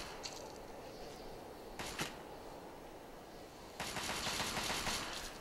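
Gunfire in the video game Fallout 3: Operation Anchorage, a couple of isolated sharp shots followed by a rapid automatic burst, over a low background hum.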